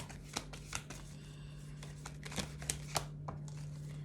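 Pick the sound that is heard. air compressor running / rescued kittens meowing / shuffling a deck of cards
shuffling a deck of cards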